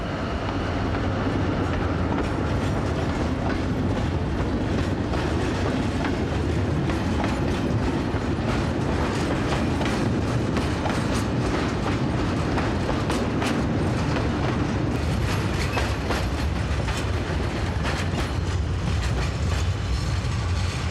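A company diesel locomotive hauls a rake of wagons loaded with heavy rail and concrete sleepers on the SNCF Causses line, a loud continuous rumble with rhythmic wheel clatter and mechanical rattling close by.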